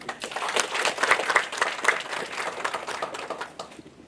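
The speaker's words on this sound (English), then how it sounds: "another big round of applause" Applause from an audience at a launch event in Fiji, a steady round of clapping that swells and fades over about four seconds, fairly close and with no talk over it.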